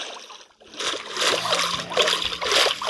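A person jumps into a river, a short quiet pause followed by a loud close splash and continued sloshing and churning water for a couple of seconds.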